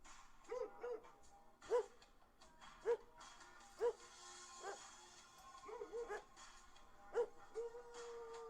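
Several short dog barks and yips ring out at an in-game mall dog show, spaced roughly a second apart with a few quick doubles, fairly quiet over steady background music, with occasional talking.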